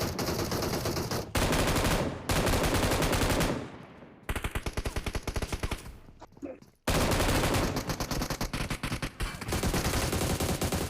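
An M249 machine gun fires in PUBG Mobile gameplay, with long loud bursts of rapid automatic fire broken by brief pauses and one quieter gap, dense and continuous when firing.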